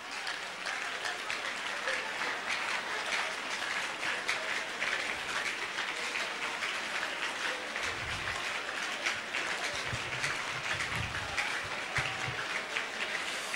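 A church congregation claps hands continuously during prayer, a dense, steady patter of many people that stays even throughout with no voices on top.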